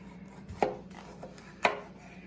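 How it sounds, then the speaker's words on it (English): A knife cuts through food and strikes the board twice, two distinct close chops about a second apart against a quiet kitchen background with no voices. "Should I cut it in half first? Yes, cut it in half first."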